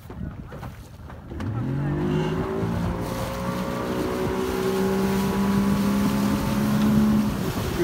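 A motorboat engine on Lake Seliger climbs from a low idle into a sustained, rising full-throttle roar that holds loud and close to the end, with some wind and water rush.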